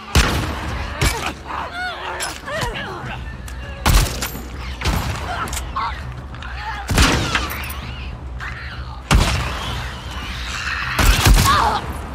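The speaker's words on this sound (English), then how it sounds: "you fucking headshotted me, bro" Gunfire in The Last of Us Part II, with several loud, sharp shots and bursts spread across the clip over a steady game soundscape.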